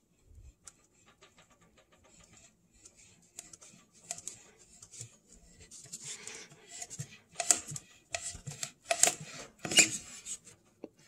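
A rubber coolant hose is sliced through on a piece of cardboard, with a run of short, close cutting and rasping strokes that grow louder and denser toward the end.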